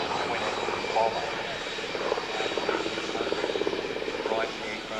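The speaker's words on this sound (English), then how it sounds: "The aircraft has the same engine in it as the B-25 Mitchell twin-engine bomber." A vintage aircraft at an air show, its engine the same type fitted to the B-25 Mitchell twin-engine bomber, gives a steady, fairly loud droning rumble throughout, while a voice talks over it.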